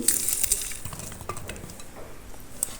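Chopped onion dropped into a pan with local koi fish, sizzling softly with a little stirring and utensil clatter, a low steady crackle with a brief sharp clink near the end.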